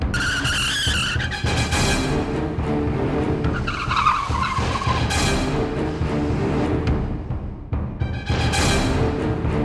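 A car's tires squeal loudly in long, pitched skids as it brakes hard to a halt, close and sustained, with a roaring engine beneath and repeated screeching bursts across the stretch, no talking.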